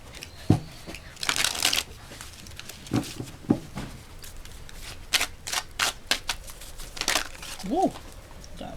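A deck of playing cards being shuffled at close range during a card reading, with bursts of riffling and flicking separated by pauses, and a voice speaking intermittently over the handling.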